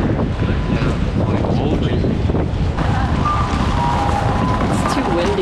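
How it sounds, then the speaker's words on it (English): Steady wind roars across the microphone in a constant low rumble on a street in Osaka, Japan, with faint tonal sounds rising in the background. "It's too windy right now."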